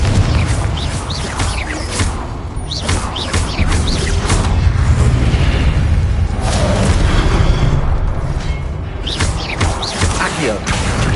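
Booming blasts from the Confringo fire-blasting spell in a Harry Potter video game go off over and over in dense, loud succession, layered with constant crackling battle noise and a voice shouting.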